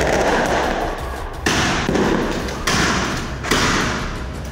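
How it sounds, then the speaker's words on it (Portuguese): Gunshots and fireworks sound at night shortly before midnight during a clash between criminals and military police in Andorinhas, four sharp loud bangs at roughly one-second intervals, each with a lingering echoing tail. "É possível escutar barulhos que seriam de tiros e fogos de artifício"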